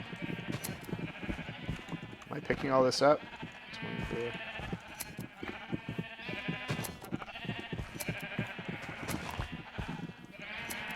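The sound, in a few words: sheep bleating in the video game Minecraft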